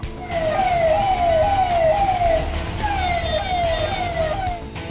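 A wailing ambulance siren cycles repeatedly over a steady rumble of jammed road traffic on waterlogged streets, loud and continuous throughout.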